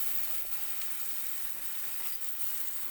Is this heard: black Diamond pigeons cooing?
no